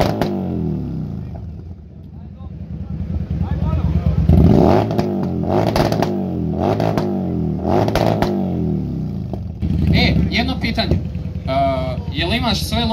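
A 1.9 TDI diesel car engine at a tuning show revs repeatedly in loud rising and falling bursts, with rough idling between them and people talking nearby.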